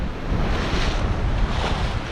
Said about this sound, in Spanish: Este es el mar que tenemos, que vienen olillas así